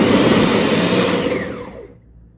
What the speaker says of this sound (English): So let's grind this up.